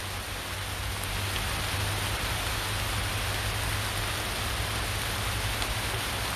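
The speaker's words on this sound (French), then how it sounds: "Et puis d'un seul coup, ça pleut." Steady rain pours down beside the Marne river, a loud, dense, unbroken hiss of drops close by with no voices.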